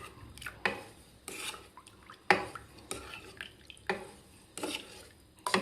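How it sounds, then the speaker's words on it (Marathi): Barnyard millet flour being stirred into buttermilk in a bowl: irregular wet scraping and stirring strokes with brief clinks, close and fairly quiet, no talking. "परत आपल्याला हे पीठ व्यवस्थित मिक्स करायचं आहे ताक घातल्यानंतर."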